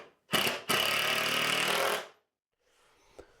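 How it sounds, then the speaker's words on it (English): A power driver sets a screw on a boat build, whirring loudly and steadily for under two seconds after a brief start and pause, then stopping, followed by quiet handling noise. "Now I'll get a second screw in,"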